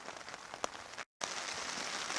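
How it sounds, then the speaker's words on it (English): Rain falls steadily on a wooded campsite at Little Indian Sioux in the Boundary Waters, a constant close patter of drops broken by a brief moment of silence, with no one speaking. "Still raining."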